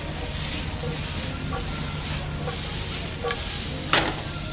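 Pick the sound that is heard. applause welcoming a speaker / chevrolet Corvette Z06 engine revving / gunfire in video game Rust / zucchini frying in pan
zucchini frying in pan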